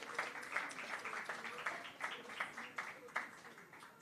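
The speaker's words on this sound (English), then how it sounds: "A final big round of applause." An audience's round of applause at a craft and coffee event, a faint, steady patter of many hands clapping for a few seconds, heard at a distance.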